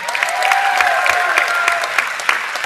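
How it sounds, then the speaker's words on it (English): A graduation commencement crowd applauds steadily and loudly for an absent honoree, with dense clapping throughout and a faint whistle or cheer threading through it. "Clap it up for Brendan anyway"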